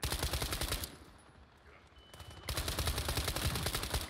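AK-15 rifle fire in World War 3, heard as rapid, loud automatic bursts, one long burst, a brief pause, then another sustained burst.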